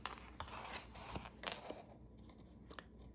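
Small scissors snip several times in quick, irregular succession through candy bar box flaps, close and quiet, with faint crisp clicks of the blades.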